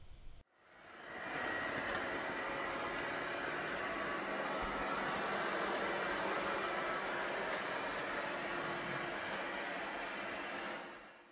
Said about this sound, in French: Alors ça, c'était le bruit du robot, on va dire en puissance moyenne.